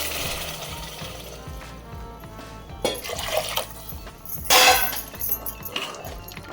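Water splashes and pours into a cooking pot for rice with field beans, with clinking, glassy knocks, including a sharper burst near the end; no talking.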